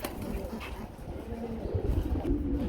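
Madrasi gulla pigeons coo in a repeated, throaty rhythm close by, with soft rustling and faint background voices.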